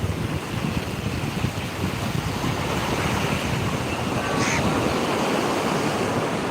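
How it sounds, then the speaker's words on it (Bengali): Sea waves surge and crash onto Digha beach in a rough, steady roar, loud and continuous and mixed with wind buffeting the microphone. "সাগরে ঢেউ আসছে পুরো তো ছিটকে দিচ্ছে"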